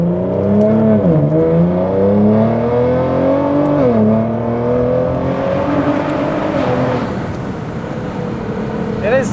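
Nissan GTR engine driving on a road on Lionheart tires, a loud close drone rising and dipping through gear changes as it accelerates, with a voice talking over it near the end.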